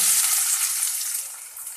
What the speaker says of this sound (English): Now once the mustard starts popping, I will be adding finely chopped onion